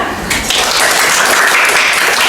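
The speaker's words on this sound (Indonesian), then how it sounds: "Ya kita beri aplaus." Classroom applause for students, a dense burst of clapping from a group that rises quickly and holds steady and fairly loud throughout.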